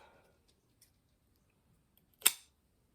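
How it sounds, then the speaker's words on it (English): Scissors snip once through excess wreath wire, a single crisp metallic cut standing out against near silence, with a couple of faint clicks before it. "Once we do that, we're going to cut off the excess,"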